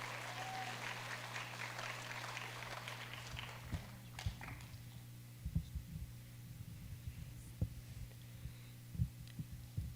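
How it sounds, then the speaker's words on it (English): A small audience at a Little Cherokee Ambassadors event applauds briefly and softly, the clapping fading after a few seconds into a low electrical hum with scattered thumps. "Let's give her a big round of applause."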